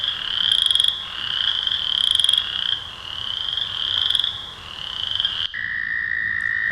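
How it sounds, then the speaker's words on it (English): Chorus frogs calling in a loud, continuous spring chorus of repeated rising trills, steady and close for most of the stretch before cutting to a thinner, higher call near the end. "Chorus frog."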